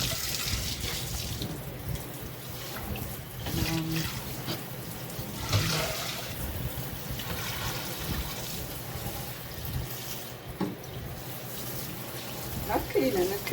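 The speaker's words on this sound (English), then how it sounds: "this is me just cleaning up the sink" Water runs steadily from a tap while a sink is being cleaned, a continuous close splashing and trickling with clinks and shifting flow, and a person talks over it at times.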